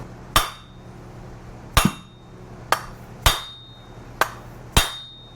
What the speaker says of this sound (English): use a nice big beefy hammer so you don't have to whack it too many times